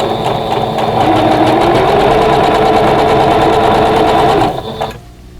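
A sewing machine chain pieces quilt block pieces with 50 weight thread at a 2.0 stitch length, running loud, fast and continuous at close range before slowing and stopping at the very end.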